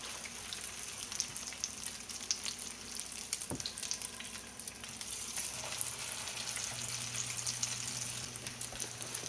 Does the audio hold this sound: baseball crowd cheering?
no